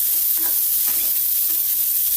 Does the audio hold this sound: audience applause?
no